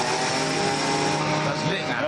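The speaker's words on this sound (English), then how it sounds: "Bruce holds the leaf blower up to the turbo to get the jet up to speed." A leaf blower held to the turbo of a junkyard-built turbojet racer, spinning it up: a steady, loud whirring roar with a sustained tonal whine, continuous throughout.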